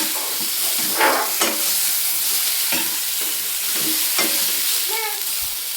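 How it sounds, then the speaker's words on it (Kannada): Food frying in a pan on a home stove, a continuous close sizzle and hiss with several sharper stirring scrapes and crackles scattered throughout. "ಇದೊಂದು ಫ್ರೈ ಮಾಡ್ಕೊತಿದ್ದೀನಿ."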